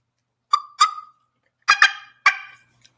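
A turkey call imitates a hen with a few sharp, loud, nasal yelps and cuts in quick pairs, sounding alone with silence between the bursts.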